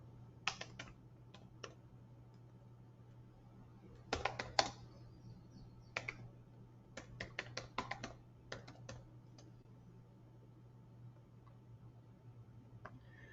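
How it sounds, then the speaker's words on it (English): Quiet computer-keyboard typing in irregular bursts of rapid key clicks separated by pauses, over a faint steady hum, no one speaking. "Just typing it in here."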